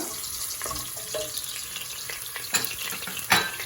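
Chopped garlic, about ten cloves, fries in hot oil for Kerala-style chilli chicken, giving a steady close sizzle with soft stirring scrapes and a couple of sharper spits near the end.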